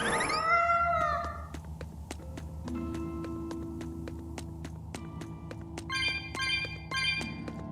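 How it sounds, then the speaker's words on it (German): A cat's meow in the video game Tales of Berseria rings out over layered game music with bright chiming tones and steady background ambience, fairly quiet in the mix. "Ich habe eine Katze gefunden."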